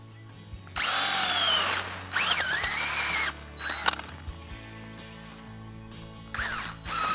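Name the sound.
power planter auger drilling holes in weed fabric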